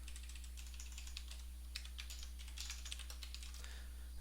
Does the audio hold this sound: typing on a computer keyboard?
yes